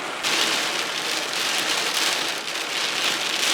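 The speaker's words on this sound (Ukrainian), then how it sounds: "був дуже сильний дощ. Та й зараз він є." Heavy rain drums steadily on a surface in a village, a loud, dense, continuous hiss with no talk over it.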